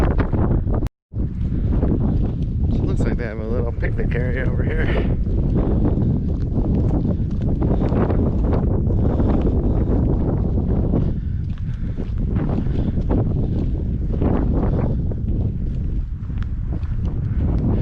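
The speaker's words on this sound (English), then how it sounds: "It's cold and windy." Strong, steady, cold wind buffeting the microphone throughout at Big Bend National Park, a loud continuous roar with someone speaking briefly over it.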